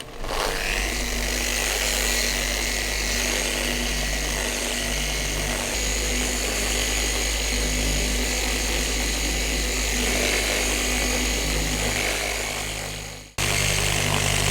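An orbital polisher on a Cadillac's car paint whirs continuously at a steady pitch, loud and close, before cutting off abruptly near the end and restarting.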